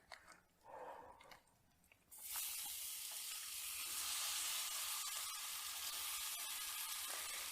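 Okonomiyaki batter hits a hot pan and breaks into a loud, steady sizzle that stays strong to the end, after a couple of seconds of quieter kitchen sounds.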